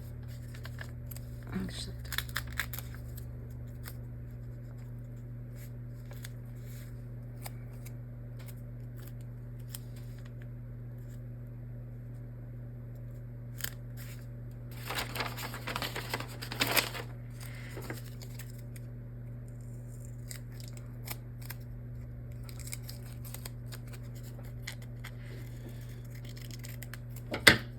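Scissors slice paper in half, with a quick burst of crisp snipping in the middle and scattered smaller cuts around it over a steady low hum, and a voice speaks briefly.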